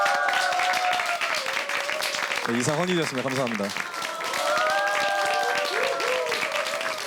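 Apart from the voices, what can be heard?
applause for teachers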